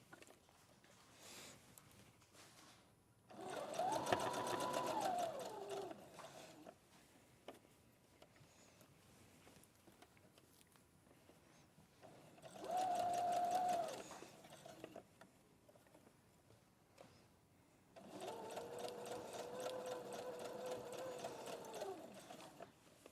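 A sewing machine stitching a seam in three bursts of rapid, rattling stitching, each a few seconds long, close by, with quiet pauses between runs.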